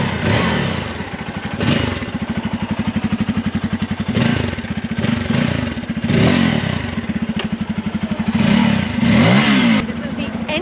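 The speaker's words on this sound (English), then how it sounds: "Here's what the F250 sounds like." A Bajaj Pulsar F250 motorcycle engine is revved hard on a stage, rising and falling through several loud, close throttle blips with a rough, pulsing exhaust note, while people talk over it.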